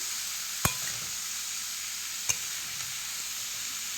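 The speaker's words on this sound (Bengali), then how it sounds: "একটু ভালোভাবে মশলার সাথে আমি ভালোভাবে মিক্স করে নিচ্ছি সবজিটাকে।" Ash gourd being stirred with spices in a hot frying pan, a steady sizzle throughout with two sharp clicks of a spatula against the pan.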